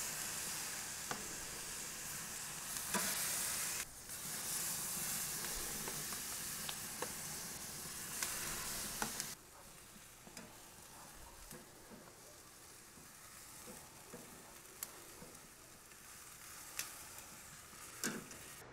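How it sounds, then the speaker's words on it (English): Chicken wings sizzle over direct heat on a Kamado Joe Classic grill, a steady close crackle with scattered ticks and pops, a bit louder in the first half and then settling to a softer hiss. "We're going to be grilling these nice and fast, get some good char on them."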